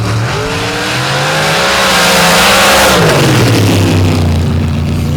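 Drag racing cars launch side by side, one with a 788 cubic inch Bischoff Ford Hemi and the other with a 959 cubic inch Pat Musey engine. Both give a very loud, close, rising roar that swells and then pulls away.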